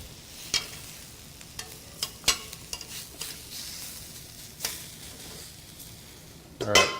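Eggplant sizzles on a slow, low-heat grill, a steady hiss broken by sharp clicks and scrapes of a utensil turning the slices, close by.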